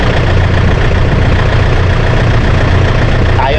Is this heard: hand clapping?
no